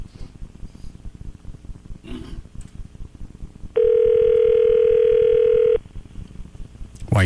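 A telephone keypad tone while dialing into a voicemail system: one loud, steady electronic tone holds for about two seconds, with quieter background noise before and after and a brief clatter at the end.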